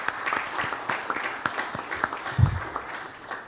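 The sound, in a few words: audience applause at a fintech exhibition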